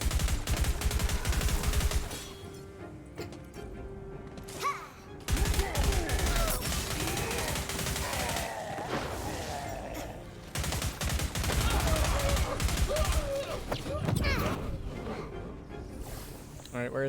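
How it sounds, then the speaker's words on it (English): A rapid-fire pistol in Tiny Tina's Wonderlands rattles off fast bursts of shots in several stretches, mixed with game effects and someone talking over much of it. "We're just slowly upgrading the pistol as we go. The fire rate on this is nuts."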